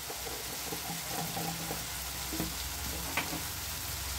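Raw jackfruit curry frying in a pan, a steady soft sizzle with faint stirring scrapes throughout and a small clink near the end.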